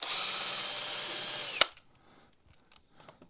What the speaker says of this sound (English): with my trusty drill driver